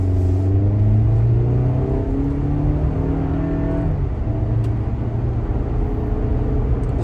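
A 2021 compact SUV, either a Nissan Rogue or a Toyota RAV4, accelerates up a highway on-ramp with a loud, rising engine drone that climbs steadily, drops briefly as the transmission shifts, then carries on under road rumble.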